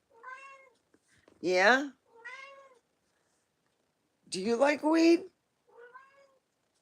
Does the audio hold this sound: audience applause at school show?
no